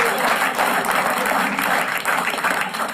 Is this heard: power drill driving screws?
no